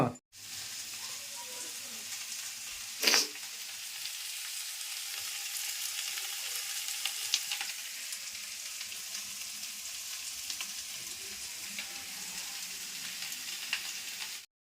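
Steady hissing sizzle of vegetables frying in a pan, with a brief clatter near the start and faint occasional stirring sounds.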